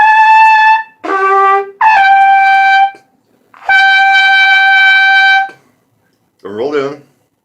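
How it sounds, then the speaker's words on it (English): A trumpet played with the lips rolled in but no tongue arch gives a forced, strained tone: four loud sustained notes separated by short gaps, then a brief rougher burst near the end. "the hallmark of somebody who is not doing the tongue arch properly is a very forced and strained sound"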